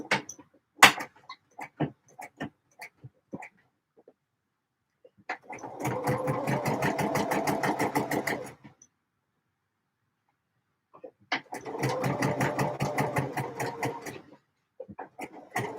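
A sewing machine stitches a D&G shirt in two sustained runs of rapid, even needle strokes, separated by quiet pauses and preceded by scattered clicks and taps of handling, close and clear with no talking.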